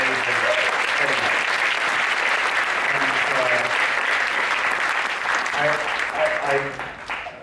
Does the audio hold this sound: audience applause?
yes